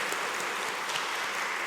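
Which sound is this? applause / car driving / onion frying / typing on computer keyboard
applause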